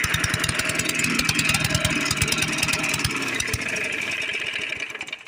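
An old push lawn mower's small engine runs rough with carburetor trouble, a loud, close, sputtering chug with uneven firing pulses that falters and fades toward the end, no voices.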